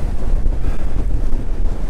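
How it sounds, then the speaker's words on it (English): Gusty wind buffets the microphone on the exposed summit of Cribyn at 795 metres, a loud, continuous low rumble that surges and eases with no voices. "We're not having constant wind, but it's just gusts."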